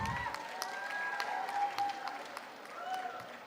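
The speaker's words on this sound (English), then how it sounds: "Round of applause once again" Delegates at a Model United Nations closing ceremony give a steady round of applause, moderately loud throughout, with scattered claps standing out from the crowd sound.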